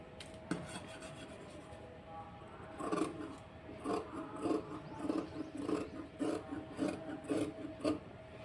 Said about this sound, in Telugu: దీని ప్రకారం కటింగ్ చేసేసుకుందాం.